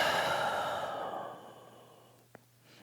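A slow, breathy exhale during a yoga flow, loud at first and gradually fading over a few seconds, with one tiny click near the end and no talking.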